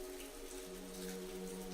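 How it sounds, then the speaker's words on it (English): Rain falls on cobblestone streets in Amsterdam, a soft, faint, even patter with a low steady hum beneath it. "The rhythmic sound of raindrops falling on cobblestones accompanied his footsteps, creating a soothing melody."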